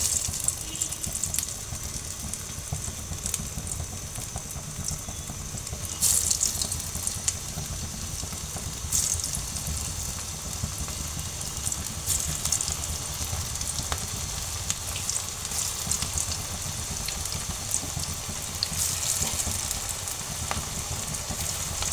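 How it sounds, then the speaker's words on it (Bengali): Beef shami kababs with potato fry in hot oil, giving a continuous crackling sizzle with scattered pops and brief surges, close and alone for the whole stretch. "তো বন্ধুরা আমি এখানে অফ ক্যামেরায় তেল দিয়েছি, আমি এখন কাবাবগুলো ভেজে নেব। তেলটা অলমোস্ট গরম হয়ে আসছে।"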